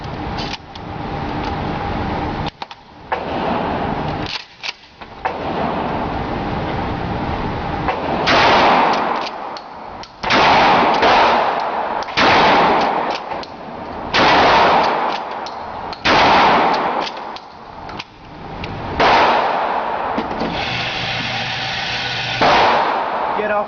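Mossberg 500 Tactical Persuader shotgun firing slugs, with repeated loud, booming blasts spread across the stretch, some close together, heard up close amid continuous background noise.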